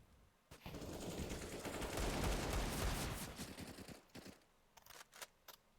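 Rapid automatic gunfire in a Counter-Strike match on the Dust2 map, loud sustained bursts that taper into scattered single shots, with no talking.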